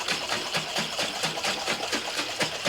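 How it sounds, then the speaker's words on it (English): A lidded container half full of cold water and barbecue mix is shaken by hand, giving a quick, regular sloshing rhythm of about four beats a second that carries on throughout. "Give it a little shake to get it dissolved."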